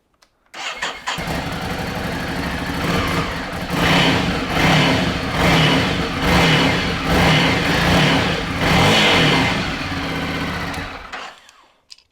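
A Ducati Scrambler Desert Sled motorcycle on its standard exhaust fires up and is revved repeatedly, loud and close, the engine rising and falling in rhythmic pulses before cutting off.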